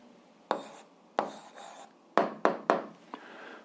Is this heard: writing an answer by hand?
yes